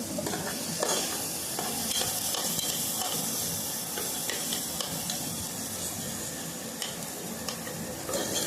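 Tomato frying with turmeric and salt in a pan gives a steady close sizzle, broken by repeated scraping stirs of a spoon throughout.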